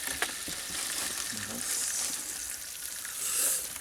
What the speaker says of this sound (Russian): Да нормально, уже шипит вон.